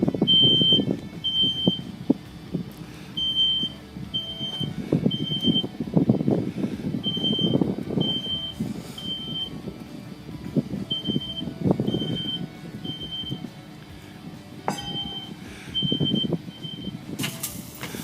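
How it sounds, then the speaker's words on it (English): A smoke alarm beeps in a steady, rapid repeating pattern, high-pitched and continuous, over low rumbling noise and muffled activity, as a couch burns in a room during a home fire sprinkler demonstration. "At this point, you just hear the smoke alarm sounding"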